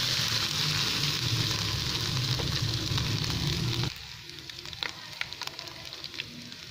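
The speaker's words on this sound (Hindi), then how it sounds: "एक मिनट के लिए हमने लहसुन अदरक के पेस्ट को भूनना है।" Garlic ginger paste fries in a pan for a white daal mash, giving a steady close sizzle that drops abruptly partway through to a quieter crackle with scattered pops and scraping.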